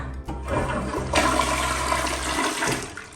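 A home toilet flushes with a sudden loud rush of water that swirls steadily for a couple of seconds before gurgling down and fading, heard close and alone.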